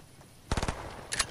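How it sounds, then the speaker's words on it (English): Gunfire in the Fortnite video game: a quick burst of four sharp automatic shots, then a shorter second burst a half second later, fairly loud over faint game background. "They're shooting at me."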